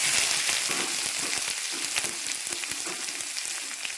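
Crushed spice mix with curry leaves hits hot oil in a pan and fries in a loud, steady crackling sizzle with dense popping throughout, no voices.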